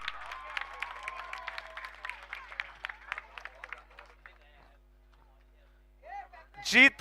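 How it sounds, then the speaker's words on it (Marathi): Crowd at a local cricket match clapping for the Rajpuri team, a quick run of claps that thins out and fades to near silence, then a brief burst of louder sound close by at the end. "सगळ्यांना विनंती असेल, राजपुरी टीम साठी एकदा जोरदार टाळ्या होऊन जाऊ द्यात."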